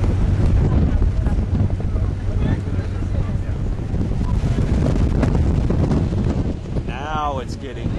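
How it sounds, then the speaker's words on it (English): Strong wind roars and buffets across the deck of a paddle wheel boat cruising on Lake Tahoe, a loud, continuous rush with a low hum beneath and a brief whistling tone near the end. "Now it's getting windy."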